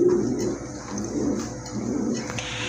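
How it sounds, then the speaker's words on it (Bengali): A pair of black Spanish pouter pigeons at a pigeon sale, giving low soft cooing calls that recur through a steady background hum, moderately close with no talk. "এক জোড়া একটা কবুতর দেখতে পাচ্ছেন এখানে, এটা স্প্যানিশ পটার না ভাই?"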